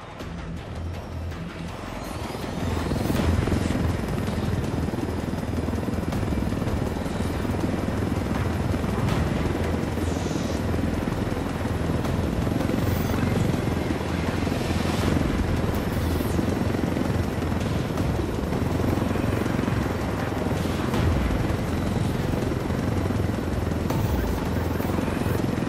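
A helicopter in the video game Ghost Recon Wildlands gives a loud, continuous rotor and engine roar that holds steady throughout after a brief quieter start.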